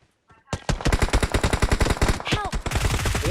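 Rapid automatic gunfire in the PUBG Mobile battle royale game, a loud sustained burst of evenly spaced shots that begins after a brief quiet moment and runs continuously to the end, with faint game effects mixed in.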